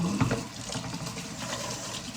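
Shower water runs steadily from the tap in a home bathroom, a continuous close hiss and splash with no voices.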